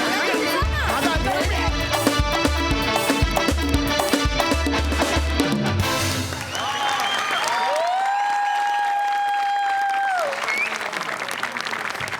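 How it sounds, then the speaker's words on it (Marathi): Loud, sustained applause from a comedy-show audience after a magician's act fills the first half, then fades as music swells with long held tones. "जोरदार टाळ्या."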